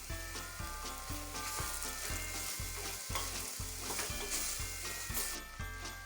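Garlic and tomato for a butter mushroom gravy fry in a pan with a constant close crackling sizzle, heard alongside a steady rhythmic musical backing.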